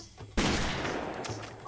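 A double-barrel shotgun fires in Far Cry 2, one loud, close, sharp blast with a long, rumbling tail that hangs and fades slowly afterward, with no voices.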